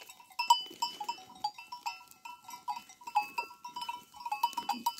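A flock of sheep and goats grazes in a field at sunrise, with scattered bleats and light, ringing, bell-like tones coming and going at a fairly quiet level.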